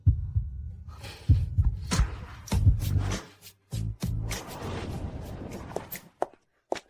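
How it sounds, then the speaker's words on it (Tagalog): A fast heartbeat sound effect plays as a drama's tension builds: a steady run of low, muffled double thumps, close and fairly loud, with a brief drop-out partway through and no one speaking over it. "Bakit kaya mabilis ang tibok ng puso ko?"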